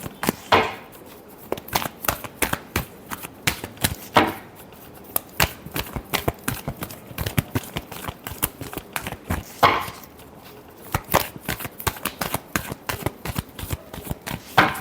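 Tarot cards shuffled by hand in rapid riffling bursts, crisp flicking slaps repeating in quick clusters with brief pauses between, close and clear with no talk.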